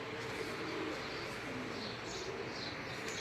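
Pigeon cooing blends into a dense, steady outdoor din at a pigeon-flying competition, with a faint voice in the background throughout.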